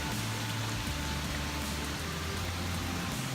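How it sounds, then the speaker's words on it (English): Heavy rain falling steadily during Hurricane Harvey flooding on a farm, a constant dense hiss of drops on surfaces with a low rumbling undertone, no talk. "We're not expected to have any let up in the rain for the next 24 hours."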